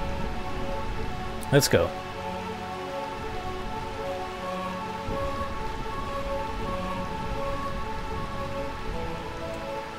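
Constant rain in Burmecia, the Realm of Eternal Rain, from the game Final Fantasy IX, a steady, even hiss of downpour over a background music drone, with a brief spoken line near the start.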